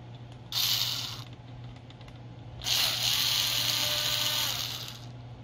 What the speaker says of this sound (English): I like to use my cordless whenever possible.